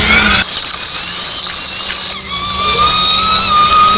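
A DC motor is hand-cranked as a generator, giving a loud, steady whirring, mechanical drone with a brief dip partway through and no talk over it.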